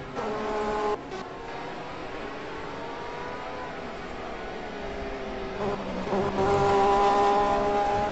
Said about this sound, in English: And there goes the GT car.